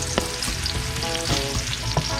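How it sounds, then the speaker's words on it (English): Steady, close sizzling and crackling of leeks frying in a pan, with a few sharper pops and stirring clatters over a constant hiss. "Frying leeks."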